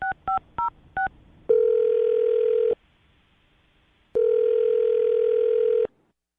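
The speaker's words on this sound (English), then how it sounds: "I'm dialing her phone number right now, Jonas." Four quick touch-tone beeps from a phone keypad, followed by two long ringback tones separated by silence, clear and close.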